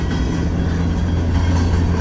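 A long freight train rolls by in Fremont, Nebraska, with a loud, unbroken low rumble of passing cars close at hand.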